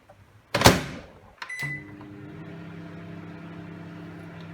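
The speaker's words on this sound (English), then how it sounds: "Oh my god, this is microwaving right now." A microwave oven door shuts with a loud thump, a beep follows, and the oven starts up into a steady low hum as an iPad heats inside.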